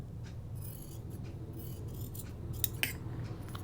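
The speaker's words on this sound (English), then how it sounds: "I know I'm hacking at that a little bit. These scissors are not that sharp enough." Dull scissors hacking through pajama-top fabric along the grain line, a steady close scraping snip with a couple of sharper clicks near the end, no talking.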